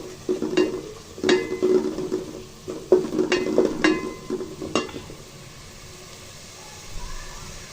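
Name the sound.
sautéing spice masala in a pan, stirring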